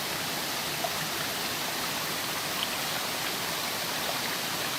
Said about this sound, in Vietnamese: Tiếng suối nó chảy róc rách.